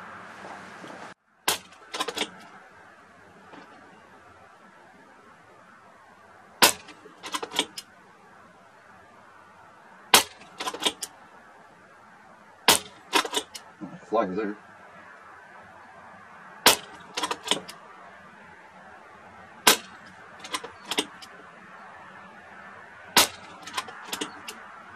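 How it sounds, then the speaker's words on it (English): An FX Wildcat air rifle fires JSB and Predator GTO pellets, each shot a sharp, close crack with a quick metallic follow-up click, repeated at irregular intervals of several seconds against a quiet background. "Alright guys, I'm shooting the FX Wildcat. I'm going to shoot the JSBs on the right and the Predator GTOs on the left."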